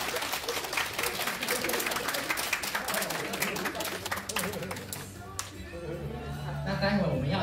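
Applause fills the room at a wedding engagement ceremony, a steady dense wash of clapping from a crowd throughout, with an announcer's voice and chatter mixing in underneath.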